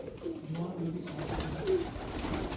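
Pigeons cooing in a loft, with several soft low throaty coos repeating close by over faint background voices.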